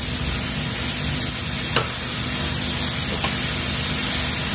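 Ground beef and eggplant being stirred in a frying pan, a steady broadband sizzle with a couple of faint scrapes from the utensil, continuous and close, no talking.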